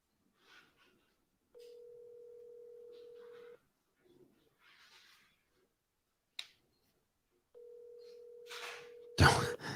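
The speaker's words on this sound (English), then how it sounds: "Can you hear it ringing?" Ringback tone on an outgoing phone call: two long, even electronic rings about two seconds each, separated by a quiet gap with faint clicks, followed by a sudden loud burst of noise.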